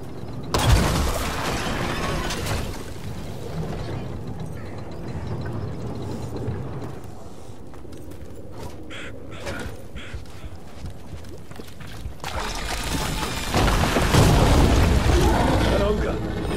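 Ballista firing and impacting in the video game Dragon Age: The Veilguard, heavy booming thuds and mechanical clatter under combat noise, loud at the start and swelling again near the end.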